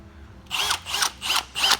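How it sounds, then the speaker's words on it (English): A power drill with a bit reams out a ball joint hole in the spindle of a 1999–2006 International truck during a lowering drop install. Four loud, close whirring bursts come in quick succession. "Let's use the drill bit and put it on your spindle to ream it out."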